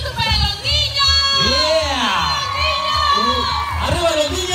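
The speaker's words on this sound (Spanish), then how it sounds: "¡Un aplauso para los niños!" Loud festival crowd cheering and whooping for children at a Latino festival's Battle of Puebla reenactment, with children shouting and an amplified voice calling over the steady roar for the whole stretch.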